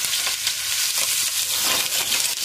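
A salmon steak pan-frying in oil gives off a loud, continuous hissing sizzle that holds steady and close throughout, with slight surges in intensity.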